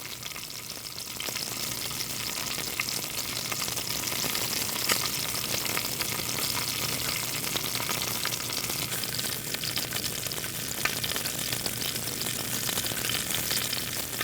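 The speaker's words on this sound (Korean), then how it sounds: "대학생들의 노래 소리에 화음을 맞추듯 들려온 고갈비 익어가는 소리" Mackerel (go-galbi) grilling over heat in an old Busan alley gives a steady, close, crackling sizzle with fine spits and pops throughout, and no voices.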